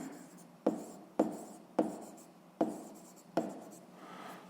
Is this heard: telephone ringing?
no